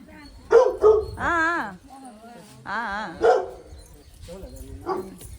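A dog barks and yelps repeatedly nearby, with whiny, drawn-out howling between barks and faint voices in the background.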